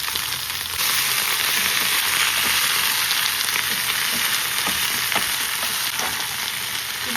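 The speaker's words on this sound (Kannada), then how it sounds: "ಇದು ಫುಲ್ಲು ಬಾಡೋ ತನಕ ಹುರ್ಕೋಬೇಕು ಗೈಸ್." Spinach (palak) fries loudly in a pan with a dense, constant sizzle, broken by a few soft clicks and scrapes of stirring.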